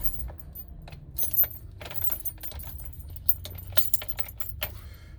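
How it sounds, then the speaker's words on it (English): Car keys jangling and clinking in the ignition of a 2004 Chevrolet Avalanche 5.3 L as the key is turned off, a series of close, bright metallic rattles over a low hum. "turn the key off."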